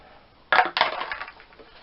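Crinkly rustling and clicking of PC power supply cables being unwrapped and freed up during a cheap 2013 gaming PC build, two sharp bursts of close handling noise that then fade into softer rustles.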